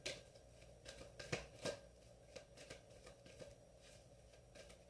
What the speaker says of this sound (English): I just shuffle till it feels right